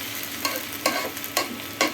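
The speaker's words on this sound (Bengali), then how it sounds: "আমি এটা এখন নাড়াচাড়া দিয়ে এটা কেটে দিব।" Spiced potato fry seasoned with a little turmeric being stirred in a pan at home, with a steady soft sizzle broken by four scraping stirs at regular intervals, close and alone with no voices.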